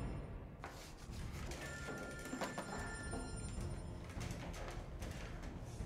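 A telephone rings in a video game, a steady electronic trilling bell with bright repeated tones over a dense, loud game background and continuous clutter.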